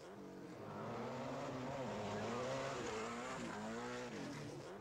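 Peugeot 205 Turbo 16 rally car revving hard on a small muddy competition course in Sarlat, engine note loud and close, rising and falling through gear changes with a brief tyre squeal.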